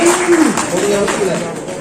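An audience at a local political event greets officials arriving on stage with applause, a dense wash of clapping heard under a loud announcer's voice over the PA.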